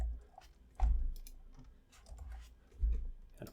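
Fingers typing on a computer keyboard, a scattered run of sharp, close clicks and taps with irregular spacing and a few heavier thumps, alone with no talking.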